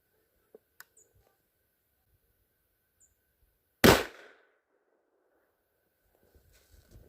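A single sharp .308 rifle shot cracks out near the middle, fired into packed snow outdoors, with a short decaying tail; faint clicks and quiet handling noises come before and after.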